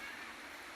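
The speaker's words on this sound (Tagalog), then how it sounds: "Bagamat umuulan" Steady rain falls in a dense, even hiss with no breaks, moderately loud and close by, with nothing else standing out above the wash of drops.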